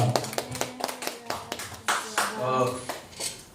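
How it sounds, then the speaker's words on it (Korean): A church audience claps at a Korean gospel praise festival, with a burst of uneven hand claps, some sharp individual slaps, and a voice talking over it nearby. "박수 한번 크게 쳐주세요"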